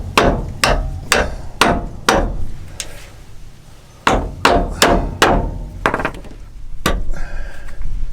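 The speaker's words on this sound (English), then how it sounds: "We're gonna need a hammer to drop it." Sharp, loud hammer blows strike metal while removing a Land Cruiser 100 Series control arm, about a dozen ringing impacts in two clusters separated by a brief pause.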